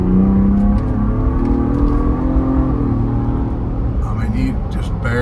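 A 2022 Hennessey Velocity Raptor 500 truck accelerating hard, a loud steady engine roar that rises in pitch and holds close throughout, with a voice talking over it.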